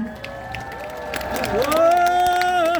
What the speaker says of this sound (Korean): 여러분 정말 환영의 박수 부탁드립니다